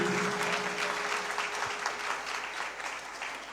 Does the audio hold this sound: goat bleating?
no